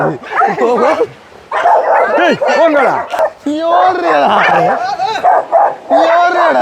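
A dog barks and yips repeatedly at close range, with whimpering tones between barks, while people talk and call out over it.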